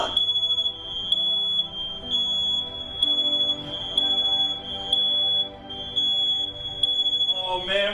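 A loud, piercing smoke alarm shrills continuously at a steady high pitch, pulsing slightly, with faint background noise and no talking.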